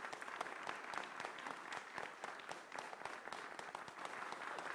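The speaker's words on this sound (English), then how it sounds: "So a round of applause for yourselves again." An audience at a Pan-African agriculture symposium gives a round of applause, steady, fairly even clapping from many hands lasting a few seconds with no voices on top.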